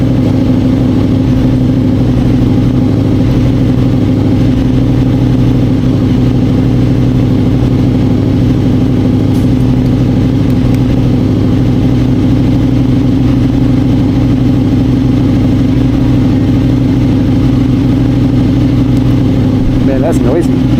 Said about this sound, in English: Sorry about the sound of that guy's bike. It was like right in front of us and it was very loud to us as well.